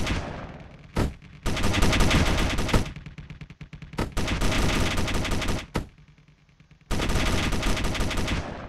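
A gun turret fires in Space Engineers during a corvette versus frigate battle, long loud bursts of rapid automatic fire broken by short pauses and single sharp cracks, close and dominant.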